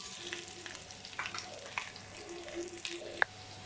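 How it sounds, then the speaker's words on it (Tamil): Baby potatoes frying in oil until golden brown, a quiet, steady sizzle with occasional stirring clatter and a small clink near the end. "இப்போ நல்லா கோல்டன் ப்ரௌனாக ஆயிடுச்சு."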